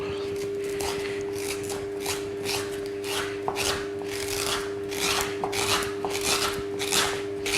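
A spoon rasping over the soft flesh of a roasted butternut squash, repeated rhythmic scrapes close to the microphone, each stroke a short gritty rub against the skin, over a low steady hum.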